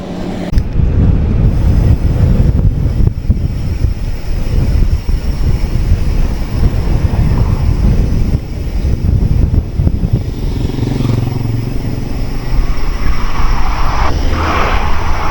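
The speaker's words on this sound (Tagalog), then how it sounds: "Lalong mahangin." Strong wind buffets the microphone during a ride near Dingalan in a continuous loud roar, low rumbling gusts throughout with no voices.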